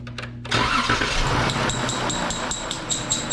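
A 3.6L Pentastar V6 engine, repaired after a bad rolling rocker, cranks briefly, then catches and settles into a steady running idle, loud and close, with no talking.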